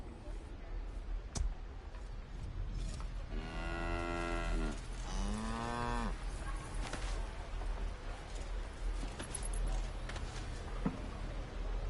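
A cow in Baldur's Gate 3 gives two drawn-out moos in the middle, fairly close and loud, amid a dull ambient background with a few clicks.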